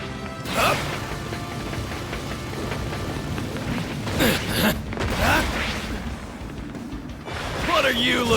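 Bakugo's explosive Machine Gun quirk attacks in the video game My Hero Ultra Rumble: a cluster of sharp blasts and crackling pops amid busy game effects, with shouted character voice lines in between.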